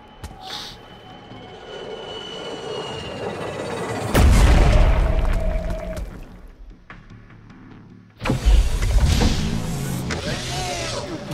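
A thumper drilling machine in the video game FireFall thumps heavily, with two loud low booms landing a few seconds apart over a rumbling mechanical background.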